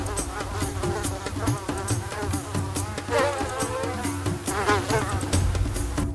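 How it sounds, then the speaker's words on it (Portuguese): Insects buzz continuously in the humid Amazon rainforest, a dense, close, high whine of mosquitoes swelling and fading in layered waves over a steady background, with no voices. "O pior pesadelo aqui é o mosquito."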